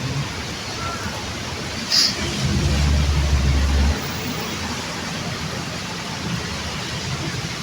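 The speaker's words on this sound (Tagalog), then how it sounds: "lakas ng ulan" Heavy rain falling outdoors while walking, a steady dense broadband hiss throughout with a brief louder gust of low rumble midway; no talking.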